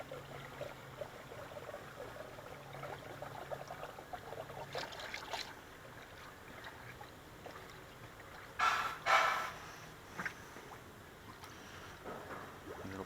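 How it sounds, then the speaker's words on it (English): Coolant pours through a funnel into the radiator of a 2013 Honda Ridgeline, a faint, steady trickle and gurgle with a couple of brief louder knocks near the end. "And start pouring coolant. Now you're going to want to pour coolant until it stops."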